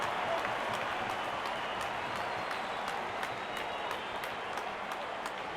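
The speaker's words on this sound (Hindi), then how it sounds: "जब अपोनेंट फैंस भी ताली बजा दे तो समझ जाइए बैटिंग कमाल की हुई है।" Cricket stadium crowd at an IPL match between RCB and SRH applauding, a dense, continuous wash of clapping from a large crowd, steady and moderately distant throughout.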